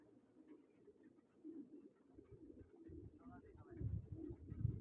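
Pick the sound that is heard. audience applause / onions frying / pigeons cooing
pigeons cooing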